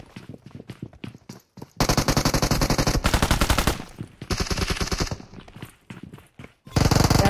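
Automatic gunfire in the PUBG Mobile shooter game, loud and close, coming in long rapid bursts split by short pauses, with a final burst near the end.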